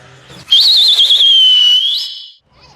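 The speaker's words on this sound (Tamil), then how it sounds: "Start the whistles." A cricket fan blows a whistle after a CSK vs KXIP match. One loud, close, warbling blast holds for about two seconds and then fades.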